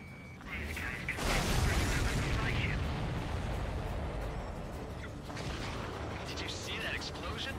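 A large explosion in the video game Ace Combat 7, a loud rumbling blast that swells in, holds for several seconds and slowly decays, with game radio chatter and voices talking over it.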